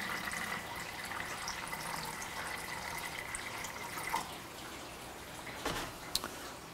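Water runs into a measuring cup while C-41 film-developing chemistry is mixed, a faint continuous trickling stream with a few small clinks near the end, close but quiet.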